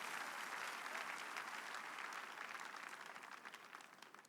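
A church congregation applauding during a Portuguese-language evangelistic sermon, dense sustained clapping from a large crowd that holds steady and then gradually thins toward the end.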